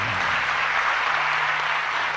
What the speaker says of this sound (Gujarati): માને તાળીઓથી વધાવો છે.